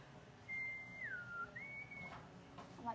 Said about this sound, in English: I might be whistling a lot in the video.